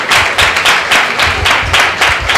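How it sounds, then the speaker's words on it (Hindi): Loud, steady applause from a congregation at a Sunday church meeting welcoming Pastor Suhas Gaikwad to the altar, many hands clapping close and continuously. "पासवान पास्टर सुहास गायकवाड़ जी का परमेश्वर की वेदी पर जोरदार तालियों से स्वागत करेंगे"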